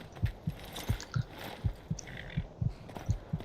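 Steady heartbeat of a vampire character in the video game Skyrim, a regular thumping pulse of about seven low beats, alone and fairly quiet.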